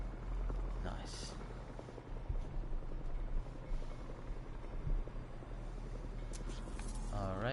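A helicopter in the video game Spider-Man 2 drones with a steady low rotor rumble and wash, broken by occasional impacts and bursts, as someone talks over the game sound.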